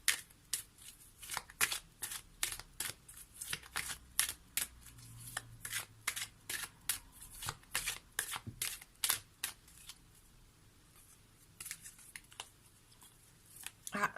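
Tarot cards are shuffled by hand in a long run of quick papery riffles and snaps, close and fairly quiet, with brief pauses between bursts.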